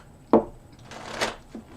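Tarot cards being shuffled up close: a sharp snap followed by a soft riffling flutter and a final light tap.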